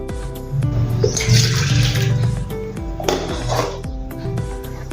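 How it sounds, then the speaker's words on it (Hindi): Boiled water from a cooking pot is poured out into a glass during kurdai preparation, a close splashing pour in two bursts, with clinking of metal utensils in between. "अभी हम थोड़ा सा पानी निकाल देंगे"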